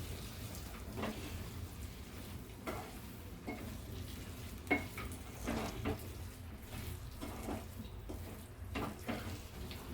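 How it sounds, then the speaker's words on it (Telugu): Fried dry fruits being stirred into carrot and beetroot halwa, a soft repeated scraping of spoon against pan over a low steady hiss of sizzling, with occasional clinks, no talking. "ఇప్పుడు హల్వాలో వేసుకొని మిక్స్ చేయాలి."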